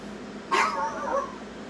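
A single dog's bark rings out once at moderate distance, brief and somewhat muffled against a quiet room.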